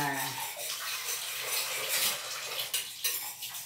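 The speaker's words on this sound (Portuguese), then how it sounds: "eu vou gravar aqui lavando a louça" Dishes being washed in a kitchen sink during a house-cleaning routine, with steady running water and intermittent clinks of dishes and cutlery, close and continuous.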